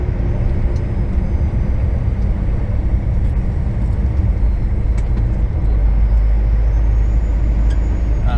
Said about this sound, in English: Way too narrow for a truck, Ned.